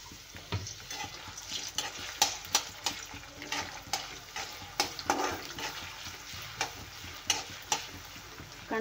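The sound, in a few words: onions frying in oil in a wok (kadhai)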